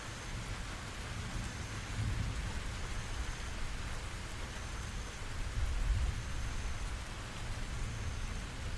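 Steady heavy rain pouring down in a dense, unbroken hiss, with low rumbles of distant thunder rolling beneath it throughout.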